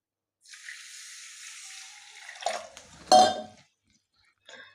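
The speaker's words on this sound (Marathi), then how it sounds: "तर हा रवा आपण धुवून घेऊया" Water runs steadily from a tap for a couple of seconds, then a louder splash and clatter as semolina is rinsed and stirred in a vessel, followed by a brief drip.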